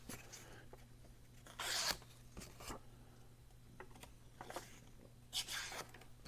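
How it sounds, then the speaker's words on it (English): A Finch Widowmaker carbon fiber folding knife slices through notebook paper, a few quiet close-up swishing rasps and tearing strokes in short bursts over a faint steady hum. "Cutting through that paper like it's nothing"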